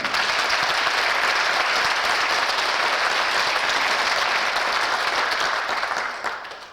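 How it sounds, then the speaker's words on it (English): A round of applause for sponsors at a local talent show fills the room with full, sustained crowd clapping, loud and even for several seconds before tapering off at the end. "let's have a round of applause for them"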